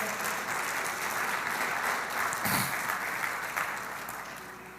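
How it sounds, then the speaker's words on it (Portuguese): Church congregation applauding during a sermon, a dense, sustained wash of clapping from many hands that slowly fades toward the end. "Pode aplaudir o Senhor."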